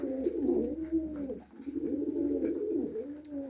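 Pigeons coo softly and continuously nearby on a freezing winter morning at minus 15, low rolling calls in two long phrases with a brief pause between, over a faint background hum.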